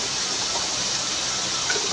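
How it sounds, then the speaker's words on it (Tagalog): Hot water poured into a cooking pot for sinigang, a steady rushing splash that holds at an even level throughout, with no talking. "tayo ay maglalagay ng kaunting tubig na mainit para mabilis kumulo"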